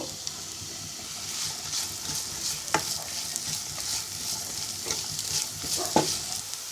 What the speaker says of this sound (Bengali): এবার একটি ফ্রাই প্যানে দুই টেবিল চামচ পরিমাণ সরিষার তেল দিয়ে দিব এবার এক কাপ পরিমাণ পেঁয়াজ কুচি ভেজে নিব